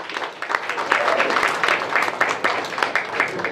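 Loud, dense audience applause fills a welcome ceremony at a stage program of Bhim and Buddha songs, a steady crackle of many hands clapping for about three and a half seconds.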